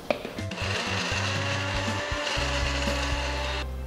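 A mixer grinder coarsely crushing spinach and vegetables for cutlets whirs steadily and loudly up close, its motor pitch shifting as the blades chop through the chunky mix, with no talking.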